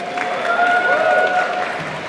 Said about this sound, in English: Let's give a round of applause to our amazing caterers for tonight's event.